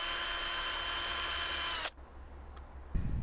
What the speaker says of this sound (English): I'm going to drill some holes in it like this